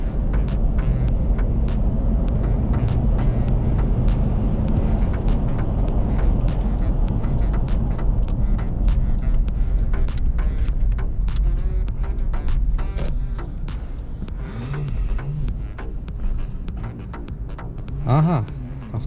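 A Lexus LX570 on a test drive after diagnostics and chip tuning, with a loud steady engine and road rumble inside the cabin that eases near the end, while someone talks over it.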